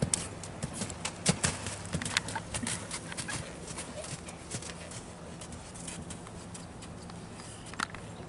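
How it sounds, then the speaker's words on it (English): A Belgian Draft cross gelding canters across a tarp, its hooves landing in an uneven run of crisp thumps and crackles over a steady outdoor rustle. No one talks. "I don't know if I've ever actually tried to canter a horse over a tarp"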